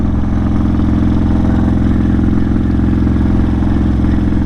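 A motorcycle engine running at night with an aggressive tone, a loud, steady, throbbing exhaust pulse heard up close and without a break.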